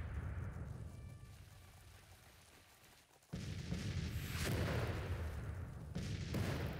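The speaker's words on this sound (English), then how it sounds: "they've sent the artillery over first" Artillery fire in the Civil War strategy game Grand Tactician: a dense rumbling barrage that drops to a quieter spell, then bursts back into heavy, continuous booming with sharp swells near the end.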